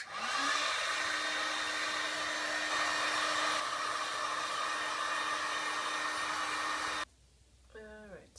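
A heat gun blows steadily and loudly on Worbla thermoplastic pieces for armour for about seven seconds, then cuts off, leaving a quiet pause with faint handling noise.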